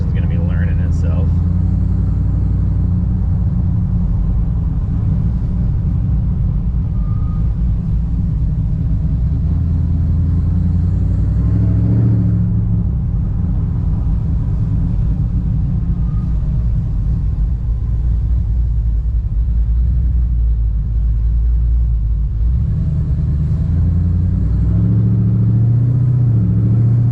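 A supercharged 426 HEMI Dodge Dakota truck is driving, giving a loud, steady low engine rumble with slight swells in drone that lasts the whole stretch.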